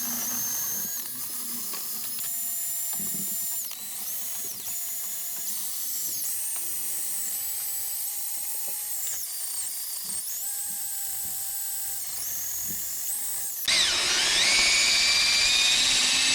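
A power drill spinning a wire brush scours rust from wheel studs on a Toyota Celica, giving a steady high whine with shifting pitch as the load changes, then growing harsher and louder near the end.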